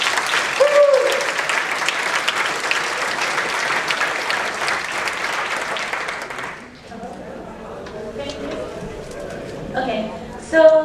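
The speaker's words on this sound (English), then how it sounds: "give a big round of applause to Elizabet" An audience claps loudly for several seconds as a speaker is introduced at a talk, then the applause fades and the speaker begins.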